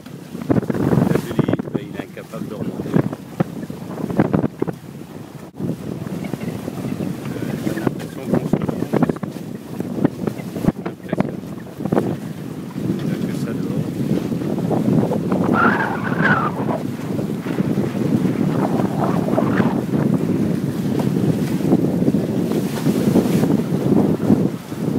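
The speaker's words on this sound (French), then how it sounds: "Il y a 10-15 nœuds de vent." Wind buffets a sailing catamaran running under the genoa alone in 10-15 knots, a continuous rushing gust noise with water wash beneath and a brief voice in the middle.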